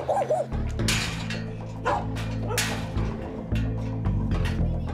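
Pit bulls at a breeding site bark, yip and whimper in a cluster of sharp, close barks and whines, with a low hum and occasional talk underneath.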